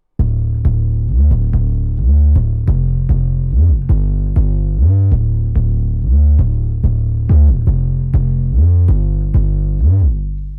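A gritty 808 sub bass, run through distortion, pounds out a bouncing rhythmic line, loud and buzzing, with notes sliding in pitch across a steady groove.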